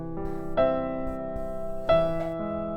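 Piano notes sound in a short phrase, with two louder accented chords about a second apart and softer notes between, ringing clearly.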